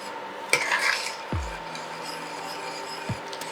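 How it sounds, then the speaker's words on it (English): A spoon scrapes and rubs around a pot of crushed tomato sauce, with a few sharp metallic knocks and scraping strokes at close range, fairly quiet and with no talking. "So we're gonna give this a good stir."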